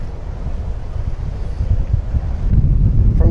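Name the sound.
wind blowing on microphone at Port Canaveral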